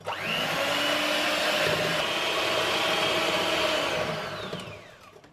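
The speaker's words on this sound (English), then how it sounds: "I'm just gonna mix in a little bit and whisk again" An electric hand mixer whirs steadily, whisking coconut cake batter with vanilla extract in a bowl, loud and close, running continuously before winding down and fading out at the end.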